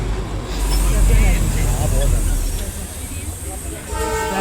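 At Batasia Loop in Darjeeling, the toy train sounds a few high horn toots over rumbling engine noise, with a brief honk near the end.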